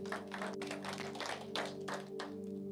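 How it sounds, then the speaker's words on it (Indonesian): A church congregation claps together in a steady rhythmic pattern of hand claps during an Indonesian worship service, heard at moderate distance and fairly faint within the room. "Berikan tepuk tangan bagi Tuhan."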